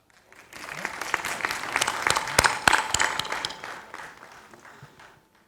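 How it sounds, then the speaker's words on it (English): Conference attendees at a UAE corporate tax seminar give a warm round of applause to welcome a speaker, swelling quickly into dense clapping with a few sharp, loud claps before tapering off to silence. "Please welcome him with a warm round of applause."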